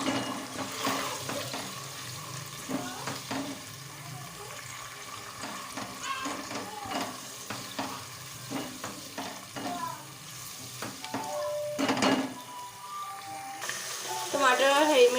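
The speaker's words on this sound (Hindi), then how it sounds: "इसको हम फ्राई कर लेंगे जब तक चिकन का कलर जो है वो चेंज नहीं हो जाता" Chicken pieces frying with ginger-garlic paste in a pan, a steady sizzle broken by repeated spoon stirs and scrapes, with some clinks near the end and no one talking.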